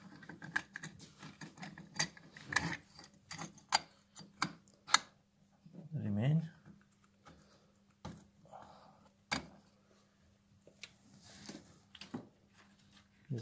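Sharp metallic clicks and clunks of parts being handled close up while a variator is fitted onto a Stels Tactic 50 scooter's overrunning clutch, with irregular taps and one brief scraping rattle.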